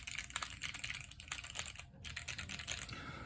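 Fast typing on a keyboard fitted with NK Cream Clickies switches, a quiet, steady stream of crisp, high clicky keystrokes with a brief pause partway through.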